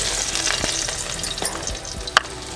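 Garlic hits very hot oil over a high flame in a radish curry pan, giving a loud, dense sizzle and crackle with a few sharp pops and stirring clicks.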